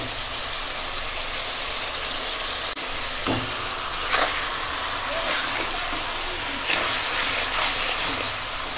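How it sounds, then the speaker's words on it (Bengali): A fried rohu fish head sizzles in a pan of spice masala loosened with a little water, a steady loud crackle and hiss with occasional stirring scrapes and clinks. "এখন এই ভেজে রাখা মুড়ো দিয়ে দিলাম।"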